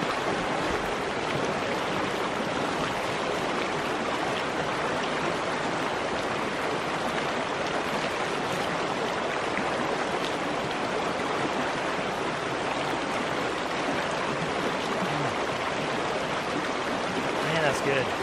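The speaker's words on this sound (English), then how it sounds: "when the water goes underneath the ice and you can see it kind of lap up against the underside of the ice there" Spring snowmelt water flowing beneath ice and lapping against its underside, a loud, steady rushing wash close by that continues unbroken.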